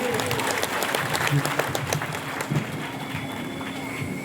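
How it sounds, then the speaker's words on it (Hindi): A crowd at a farmers' union meeting claps loudly to welcome a speaker, continuous dense applause with voices talking and calling out over it throughout. "जोरदार तालियों के साथ स्वागत करिए।"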